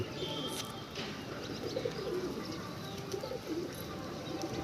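Soft, repeated cooing of pigeons nearby over a steady background hum, with a few faint chirps mixed in.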